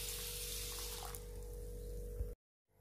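Water poured from a vessel over pearl millet and urad dal in a bowl to soak: a steady, faint splashing stream that continues, then cuts off abruptly near the end, with no talk.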